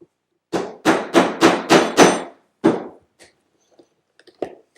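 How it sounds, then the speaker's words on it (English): A leather punch is hammered through 14 oz leather: six sharp, loud, evenly spaced blows in quick succession, then one more strike after a pause, followed by faint small clicks. "punch through 14 ounces of leather"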